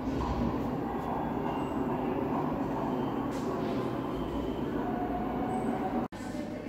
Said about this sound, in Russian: постоянные звуки трамваев, выстрелов